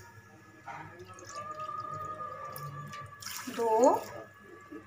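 Water poured from a bowl into a pan to make sugar syrup for rasgulla, heard as a short splashing pour under a counting voice.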